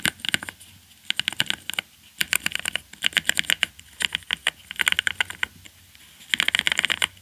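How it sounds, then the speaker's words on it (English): Rapid clacky keystrokes from a NuPhy Node75 low-profile mechanical keyboard, typed in bursts with brief pauses between, close and crisp with no voices. "the typing feel of this keyboard is great for the price, and also the sound is nice"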